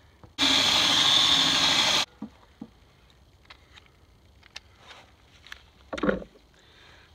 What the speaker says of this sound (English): And then we're gonna drill these two holes.